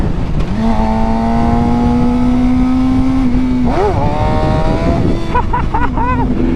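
A sport bike engine revs through a wheelie, loud and close: a sustained, slowly rising drone, a brief dip, then uneven throttle blips under heavy wind rush.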